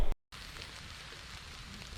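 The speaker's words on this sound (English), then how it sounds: "we're still inundated with pretty crummy, rainy weather" Rain falls steadily outdoors on Florida's Nature Coast, a continuous even hiss of drops after a brief cut to silence at the start.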